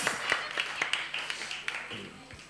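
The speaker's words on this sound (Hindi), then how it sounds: "अम्मा के लिए तालियां हो जाए गाने से पहले तालियां हो जाए" An audience at a game show claps for a contestant, with scattered, uneven handclaps that thin out toward the end, partly under a talking host.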